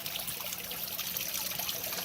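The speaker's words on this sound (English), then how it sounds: "there's a piece of wood that's really wet and the water runs down it" Water trickling steadily down a soaked piece of wood in a fish tank, a continuous close splashing dribble with no breaks and no voices.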